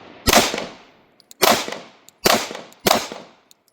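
Four sharp gunshots crack out at a shooting range, each loud and close with a ringing decay, spaced roughly a second apart with a brief pause after the first.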